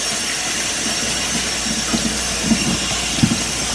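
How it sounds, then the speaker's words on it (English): Running tap water pouring over a ham as it's rinsed in a kitchen sink, a steady close hiss with a few soft splashes and knocks. "I'm just washing this ham off a little bit"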